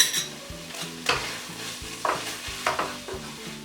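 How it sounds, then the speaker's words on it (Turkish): A spoon stirs flour into the frying tomato-paste base of a meatless Turkish dry bean stew in a pot, with repeated scraping strokes against the pot over a soft, steady sizzle and no voices. "bir tatlı kaşığı unumu ilave edip Güzelce yine karıştıracağım"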